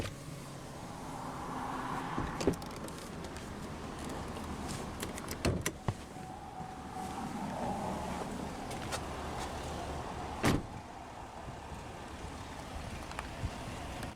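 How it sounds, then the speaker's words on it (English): Driver's power window of a 2020 GMC Sierra 1500 Denali pickup lowering, a steady motor whine running for several seconds with a few sharp clicks and thumps, heard close up inside the cab with no talking. "now we'll go ahead and roll down the driver's window"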